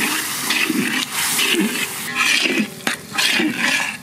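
Water is poured into a cooking pot over ground coriander, dried chilli and turmeric for a tomato chicken curry, in several splashing bursts with short pauses between.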